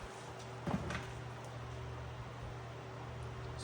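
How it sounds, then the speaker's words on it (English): A steady, low whooshing hum of a running electric fan, with a faint clunk near the start. "I've got the fan on for that."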